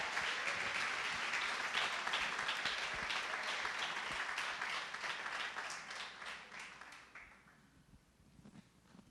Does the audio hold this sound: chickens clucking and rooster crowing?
no